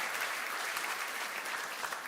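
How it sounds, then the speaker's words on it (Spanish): Steady, dense applause from a church congregation, a continuous wash of clapping with no pauses. "dele un fuerte aplauso al Todopoderoso por esa magnífica idea"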